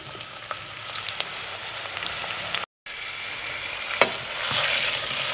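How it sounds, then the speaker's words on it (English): Chopped celery and carrots fry in a pan as the base for Italian pasta e patate, giving a steady, even sizzle with soft crackles and one brief break in the sound. "And finally the carrots, and let this fry for another few minutes."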